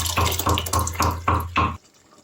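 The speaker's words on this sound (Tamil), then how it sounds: "இப்போ தேவையான அளவு தண்ணி சேர்த்துக்கலாம்" Water is poured into a pot of bottle gourd dal curry for a Hyderabadi gaddu dalcha, coming in about five quick, loud, close splashing bursts before stopping abruptly.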